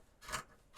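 Scissors trimming fabric for a softcover fabric journal cover, a single quiet, brief snip heard alone at close range.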